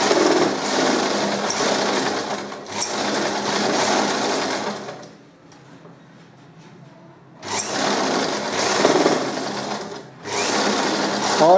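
Sewing machine stitching nighty fabric, a loud close rapid mechanical whirr running in long continuous bursts with a brief quiet pause in the middle, then resuming.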